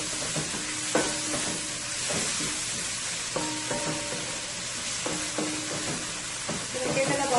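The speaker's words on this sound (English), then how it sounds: "My seasoning is nicely fried up there" Seasoning fries in a pan with a steady, close sizzle and hiss, broken by a few light clinks of a spoon stirring against the metal.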